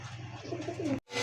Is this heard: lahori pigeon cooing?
yes